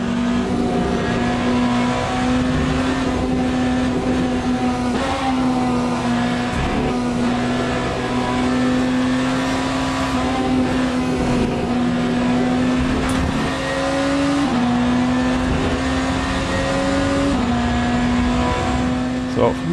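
Race car engines in Le Mans Ultimate, a steady loud drone of sustained engine tone with shifting pitch through gear changes, heard continuously and close throughout a racing lap with a Ferrari nearby.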